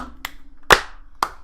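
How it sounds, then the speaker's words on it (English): Three separate hand claps, sharp and close by, spaced about half a second apart in an otherwise quiet room during a podcast recording. "Can we just get a clap for this guy?"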